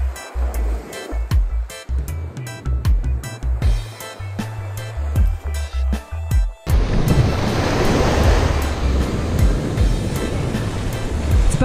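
Rough ocean surf pounds a beach during surf fishing, first mixed with close clattering handling and wind buffeting on the microphone, then a loud continuous roar of breaking waves fills the rest without any voices.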